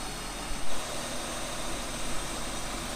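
Electric auxiliary cooling fan on a BMW E39 running at high speed, a steady loud broadband whoosh and hum close by, continuous and without talk.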